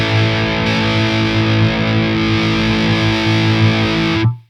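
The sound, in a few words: PRS Vela semihollow guitar, high gain through Revv G3 pedal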